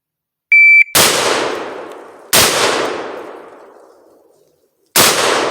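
Three loud, sharp blasts from a 20 gauge Rock Island VR82 shotgun at an outdoor range, each decaying into a long echo, spaced a second or two apart, with a short electronic beep before the first.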